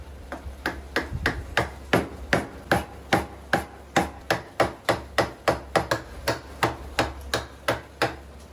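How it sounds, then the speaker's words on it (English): A chisel is struck steadily by a mallet to follow curves in wood while building a bench with hand tools only, giving about two dozen crisp, evenly spaced knocks, close and loud with no talk. "And then I follow the curves with the chisel."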